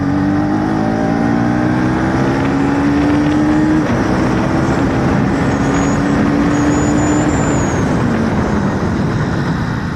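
KTM Duke 250 Gen 3 motorcycle accelerating hard to about 120 then braking, loud continuous engine drone with rising pitch that drops back as the bike slows, wind roar throughout, no talking.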